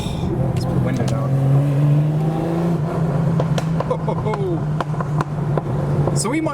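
A Porsche 964 Carrera RS engine drones with a steady, throaty note and mild revs as it drives nearby, heard under someone talking.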